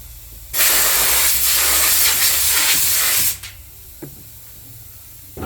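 A blast of compressed air blows out the dust screen of a riding lawn mower, a loud, close, continuous hiss that lasts about three seconds and then cuts off, followed by a few light knocks.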